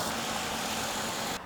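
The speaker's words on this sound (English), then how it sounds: "you can hear immediately the RPMs in the engine change" A Cadillac engine with a leaking intake gasket idles close and steady, a continuous mid-low running drone with no talk over it, cutting off abruptly at the end.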